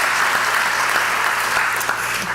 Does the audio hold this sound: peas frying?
no